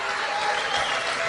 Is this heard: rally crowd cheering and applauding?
yes